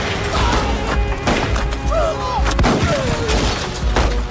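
Gunfire sound effect of two men opening fire with large guns near a railway crossing, with repeated loud cracks and booms over a dense, dramatic backdrop.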